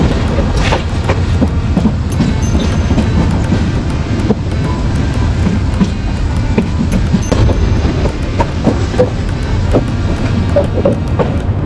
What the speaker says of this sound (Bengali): এটাই হচ্ছে সেই চট্টগ্রাম রেলওয়ে স্টেশন